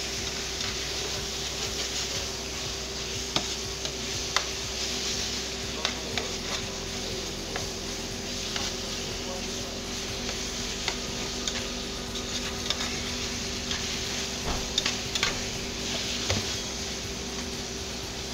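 Rock shrimp cooking slowly in oil in a seafood paella pan, with a steady low sizzle and scattered light ticks and clicks throughout, set over a constant background hum.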